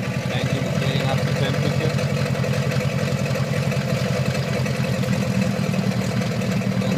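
A 2006 Mercury 15hp outboard motor warming up after a cold start, its steady rhythmic engine chug running continuously and fairly close, with someone talking over it throughout.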